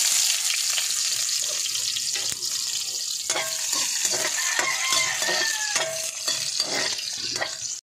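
Onions sautéing in a pan for pancit, a steady close sizzle with scraping stirs and utensil clicks throughout, no talking.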